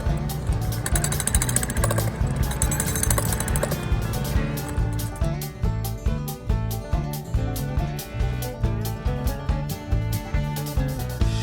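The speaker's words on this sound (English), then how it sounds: "So what do you think about using a jackhammer?" A jackhammer pounds rock for a house foundation, hammering close and loud in a fast, steady rhythm of sharp repeated blows.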